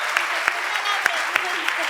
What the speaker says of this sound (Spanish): Vamos a aplaudirle para que se anime